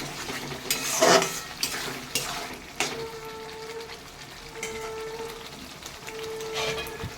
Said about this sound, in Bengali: এবার এই মশলাটাকে ভালো করে কষাতে হবে।